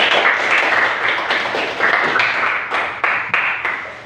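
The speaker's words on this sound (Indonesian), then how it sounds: "Oke, kasih tepuk tangan untuk teman" A sixth-grade elementary school class claps for a classmate, a close, lively patter of many small hands with distinct individual claps standing out, tapering slightly toward the end.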